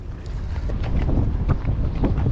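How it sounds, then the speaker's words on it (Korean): Strong wind buffets a fishing boat out on the water off Long Beach during a halibut fishing trip, a steady close roar and rumble of gusts against the microphone throughout, with no voices. "오우 바람"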